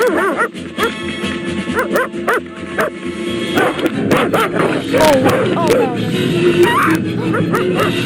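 In The Plague Dogs, Todd the fox barks in repeated dog-like yips and bow-wows at a steady rhythm, layered under film music and overlapping talk from a person reacting.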